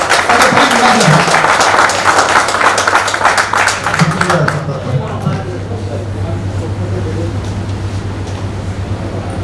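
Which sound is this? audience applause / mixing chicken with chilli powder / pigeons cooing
audience applause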